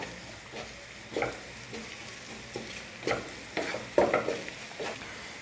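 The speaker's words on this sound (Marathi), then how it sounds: "आता गॅस वाढवायचा आहे, याला फ्राय करून घेऊ मस्त." A brinjal and tomato mixture fries in a pan over raised heat with a low, steady sizzle. A spoon scrapes and taps the pan in irregular strokes, louder toward the end, with no talking.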